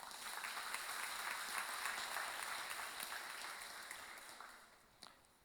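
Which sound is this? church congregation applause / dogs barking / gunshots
church congregation applause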